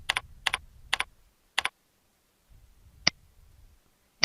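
Typing on a computer keyboard while entering a search term, four crisp evenly spaced keystrokes followed by a pause and one more sharp click, close and clear in an otherwise quiet room.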